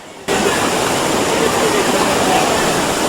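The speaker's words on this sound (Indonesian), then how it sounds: "Banjir ini dipicu meluapnya Sungai Waituba yang tidak mampu menampung air hujan lebat lebih dari 3 jam." Floodwater from the overflowing Waituba river after more than three hours of heavy rain rushes in a loud, steady roar that starts abruptly and continues unbroken.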